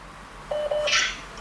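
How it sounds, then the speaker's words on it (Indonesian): A telephone keypad is dialed in a short run of close, clear touch tones, ending with a brief higher beep, over quiet room noise. "Sebentar, saya telepon Pak Firman dulu"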